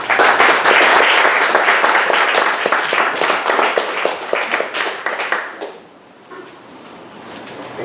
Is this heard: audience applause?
yes